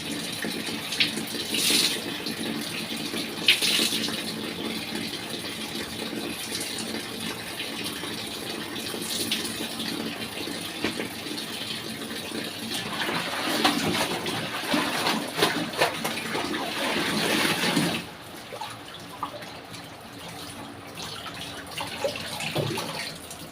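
Tap water runs hard and continuously into a tub for soaking clothes, holding steady for most of the stretch before easing to a softer, quieter flow.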